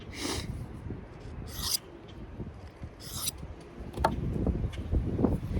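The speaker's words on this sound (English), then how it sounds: "Now we're gonna do back and forth passes and hone in that edge." A CPM 4V steel knife blade hardened to 64/65 HRC is honed with back-and-forth passes. The scraping strokes are quiet and close, with a few sharper hissing swipes standing out.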